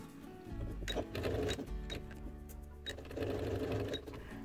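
A sewing machine runs a straight seam with a half-centimetre margin at stitch length 5, making two steady bursts of rapid mechanical stitching close by with a short pause between them.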